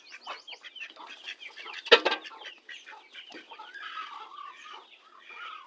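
Chickens clucking close by as they are let out of their coop in the morning, a busy run of overlapping clucks and squawks with one loud burst in the middle.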